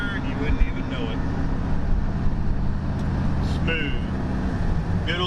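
A 1972 Oldsmobile Cutlass with a 455 big-block V8 cruising at 60 mph: a steady, smooth low rumble of engine and road noise fills the cabin, with faint voices at times.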